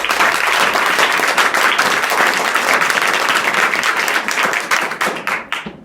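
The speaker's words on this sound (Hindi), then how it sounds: "एक बार जोर से ताली बजाओ खुद के लिए" Students in a school classroom clapping loudly for themselves, a dense burst of applause lasting several seconds that thins into scattered claps at the end.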